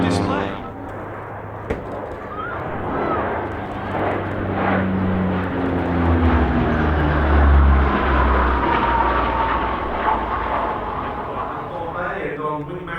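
An aircraft making a slow low pass with undercarriage down at the East Fortune airshow: a loud, sustained engine roar that swells and fades as it goes by, with an announcer talking over it.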